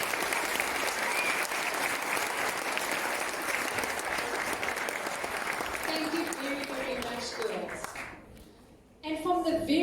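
Grandparents at a girls' school assembly clap loudly and steadily, then the applause thins and fades near the end as voices and chatter rise in the room.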